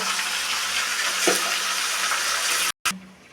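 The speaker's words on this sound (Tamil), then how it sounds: "சிக்கனை வந்து சும்மா தண்ணி விட்டு ட்ரையாக நல்லா எடுத்து போடுங்க." Steady running tap water rinsing raw chicken in a kitchen, a continuous loud hiss that cuts out briefly near the end and then resumes.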